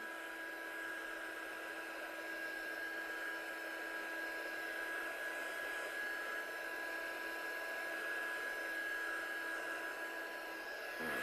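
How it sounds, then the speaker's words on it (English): A heat tool drying craft stencil work blows with a steady, unbroken whirring hum at moderate volume, unchanging throughout, with no talking. "So I'm just going to heat some of these areas up to make sure it's completely dry."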